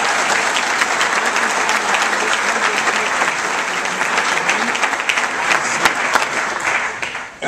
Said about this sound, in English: So please, a round of applause for all these